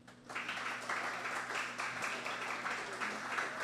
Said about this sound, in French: Votre appréciation par des applaudissements encore?